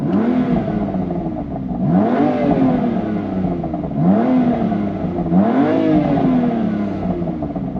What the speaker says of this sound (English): That is a brilliant sounding exhaust system.